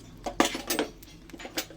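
Coriander seeds dry-roasting in a metal pan, with intermittent sharp clinks and scrapes of stirring close by, a few distinct knocks spaced across a short moment; no talking.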